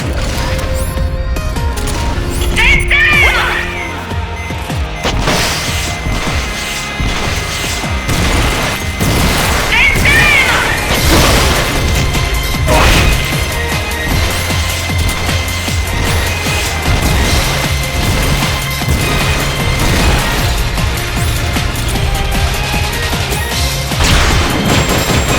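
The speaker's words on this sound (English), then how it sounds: "rocket launcher ready to fire" Rocket launcher fire and explosions in Metal Gear Solid Peace Walker make a dense, loud run of blasts, crashes and mechanical clanks that keeps going without a break.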